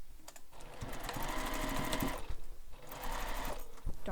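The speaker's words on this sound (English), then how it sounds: "Now we're going to sew this with a full seam allowance" Sewing machine running a full seam along a beach bag, loud and close, in two long bursts of rapid stitching separated by a short pause, with no talk.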